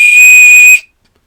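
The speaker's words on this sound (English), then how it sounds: "I stopped blowing the whistle" A single loud, shrill whistle blast blown at an Arduino sound sensor, held steady for under a second and then stopping abruptly, followed by silence.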